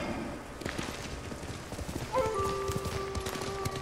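Hoofbeats of a horse clip-clopping at a gallop in the Ghost of Tsushima video game, steady and close, with a drawn-out whinny entering partway through over a soft outdoor background.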